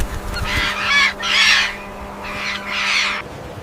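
A small flock of parrots in dry desert land, giving loud harsh squawking calls in four drawn-out bursts, close by and with no talk.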